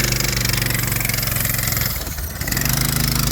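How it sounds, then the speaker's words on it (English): Arctic Cat minibike engine revving hard and steady at high RPM while the clutch slips and burns out, a loud continuous buzzing drone that dips briefly and then picks back up. "That is the clutch burning out."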